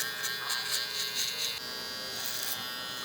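An electric hair trimmer buzzes steadily and close while cutting a child's hair during a mid fade, its whine shifting slightly partway through as the blades move across the head.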